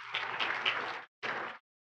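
Gala audience at an annual benefit auction applauding the auctioneer, a dense burst of clapping that cuts off briefly and resumes for a short second burst, moderately loud and without talk.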